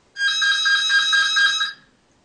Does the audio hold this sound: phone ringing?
yes